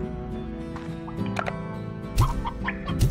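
Hens cluck in a coop in Slime Rancher, a few short, close clucks breaking through a steady backdrop of ambient game music.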